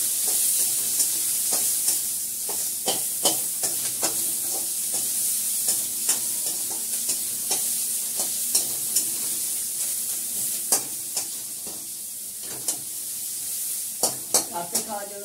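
Onions frying in a pan for a dal tempering, a steady sizzle close by, broken by repeated sharp clicks and scrapes of stirring at an irregular rhythm.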